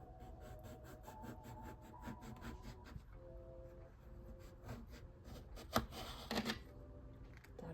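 Slices being cut off the end of a piece while making uncrossing and hex breaking powder: a steady rhythmic rubbing, sawing stroke repeated close by, with a sharper scrape or two near the end over faint background tones.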